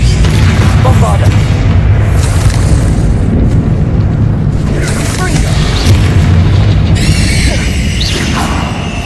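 Bombarda explosion spell in the video game Hogwarts Legacy, loud booming blasts with crashing debris and whooshes over a continuous rumbling game soundtrack.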